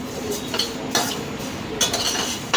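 Coriander seeds and green fennel seeds being stirred as they dry-roast in a pan, with a few scraping, clinking strokes of the spoon against the metal over a soft background hiss, close up and with no talking.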